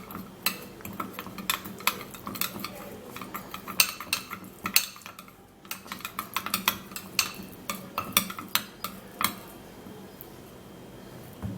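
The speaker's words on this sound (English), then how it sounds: "now I'll have to be putting in 1 teaspoon of rice powder, and then we would have to stir it." A spoon stirs rice powder into a face mask mixture in a small bowl, making a run of irregular clinks and scrapes with a brief pause midway, close and moderately loud, with no talking.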